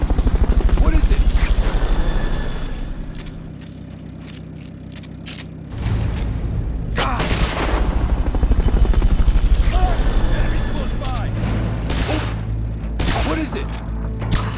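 Helicopter rotor chop from the video game Metal Gear Solid: Peace Walker during a Fulton recovery, a steady loud drone through the whole stretch, mixed with gunfire, mechanical clatter and spoken game dialogue.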